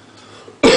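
A single sudden loud cough near the end, close by, after a quiet stretch of room noise.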